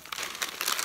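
Close crinkling of a bag of chips, quick bright rustling crackles in a short burst, handled near by.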